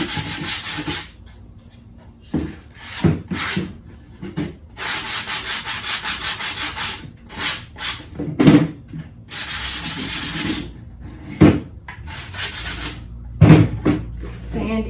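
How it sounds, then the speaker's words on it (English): A sanding block rubs back and forth over the ends of scrap wood legs, giving rhythmic raspy strokes in bursts of varying length with brief gaps and a few knocks, close and fairly loud. "Here's a sanding block. I'm going to just sand this down."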